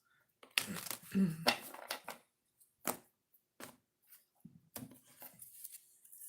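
Tarot cards being shuffled during an oracle reading, heard as close, crisp riffles and slaps that come in short irregular bursts separated by quiet gaps, with no talking during the shuffle.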